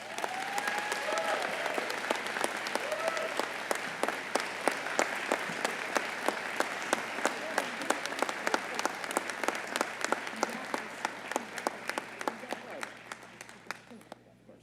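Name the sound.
crowd applauding the mayor's entrance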